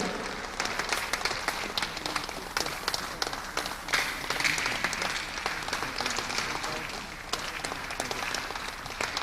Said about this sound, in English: Let's keep clapping as Prof comes down to his seat.